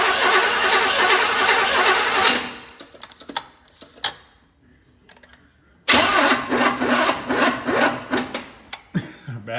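Starter cranking on a 1984 Chevy Blazer barn find, a loud sustained grinding churn for over two seconds, then a quiet gap with faint clicks, followed by a second long, loud cranking burst that stutters at the end.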